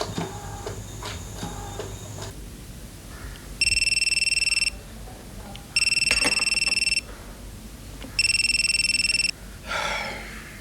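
A telephone rings in a house with three even electronic trills, each about a second long and spaced evenly apart. Faint background noise comes before and between the rings.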